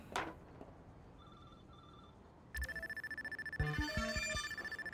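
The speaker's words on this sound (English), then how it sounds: "that phone continually rang like that" A telephone rings continually in Watch Dogs 2, a steady pulsing electronic ring repeating in a fast rhythm for the last half, loud and close, with a few faint beeps before it and short tonal game sounds layered near the end.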